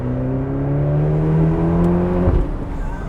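A Ferrari Portofino's engine drones steadily while driving, a loud, close, low hum with layered harmonic tones that holds even throughout, then dips and roughens near the end; no talking over it.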